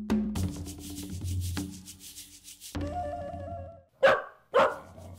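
A dog gives two sharp, loud barks in quick succession after a stretch of tonal, musical sounds and rubbing noises.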